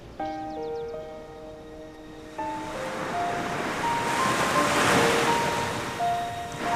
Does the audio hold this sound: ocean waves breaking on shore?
yes